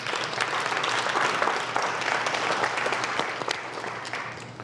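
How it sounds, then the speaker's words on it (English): Audience at a race, food and justice talk applauding themselves, a full, fairly loud spread of clapping with some sharp nearby claps, tapering gradually over several seconds. "So give yourselves a round of applause,"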